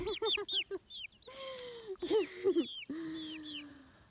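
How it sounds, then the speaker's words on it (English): A group of chickens clucking and squawking close by, with repeated choppy clucks, a few drawn-out calls overlapping them, and a low rustle underneath. "being assaulted by a bunch of birds"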